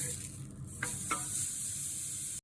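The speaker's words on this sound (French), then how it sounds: "On met les courgettes dans la poêle, on retourne les steaks." Zucchini and steaks sizzle in a frying pan, a steady close hiss with two brief louder bursts as the pieces go in and are turned.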